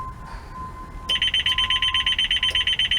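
A child-reminder alarm system in a youth van sounds an electronic tone, a loud, rapid train of evenly pulsed high beeps that starts abruptly and keeps repeating, heard close up with no talking.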